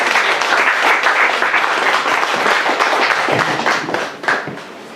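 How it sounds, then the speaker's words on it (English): Audience applause after a call for a round of applause at an event, a dense steady wash of many hands clapping loudly for about four seconds before thinning and fading out at the end. "Can I please have a round of applause for our amazing"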